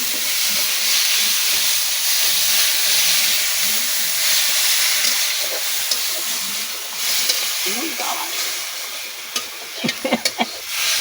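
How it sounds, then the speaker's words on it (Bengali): Ginger and garlic fry in oil with a steady broadband hiss and occasional stirring clicks near the end. "আদা রসুনটা একটু ভাইজা লই"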